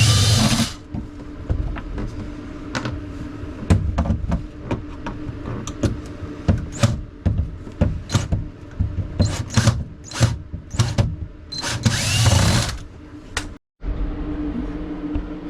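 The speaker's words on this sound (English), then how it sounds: "I just go ahead and use a cordless power drill" A cordless drill whirs in repeated short bursts, with clicks and rattles of screws between, ending in a longer sustained spin before a brief silence.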